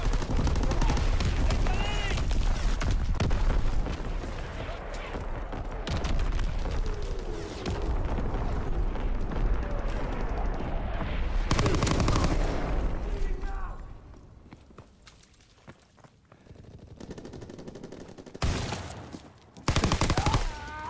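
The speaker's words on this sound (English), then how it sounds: "Incoming enemy artillery!" In Call of Duty: WW2, a loud enemy artillery barrage and heavy gunfire roar almost without a break, with bursts of automatic fire and booming blasts, then ease off briefly before a few more strong hits.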